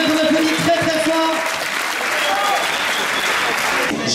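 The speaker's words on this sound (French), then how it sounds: "Gigi Bourdin qu'on applaudit très très fort" A crowd claps steadily for Gilbert Bourdin after his turn in the Rond de Saint-Vincent folk dance contest at Gourin, the sustained applause continuing throughout with some sustained tones and murmurs underneath before tapering slightly at the end.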